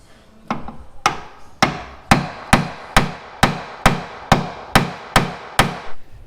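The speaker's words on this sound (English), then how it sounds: "and then beating it with the hammer" Hard metallic hammer blows land on a socket on an axle one after another in a steady rhythm, about a dozen ringing strikes close up, with no voices.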